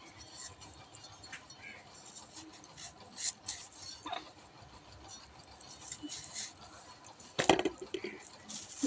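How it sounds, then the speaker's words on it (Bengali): A potato being cut for a thin vegetable curry: soft, irregular scraping and rasping strokes at close range, with a sharper crack near the end, over a faint background hum. "বেশি আলু দেবো না চারটে আলু দেবো দুটো কাটা হয়ে গেছে আর এইটা কাটছি"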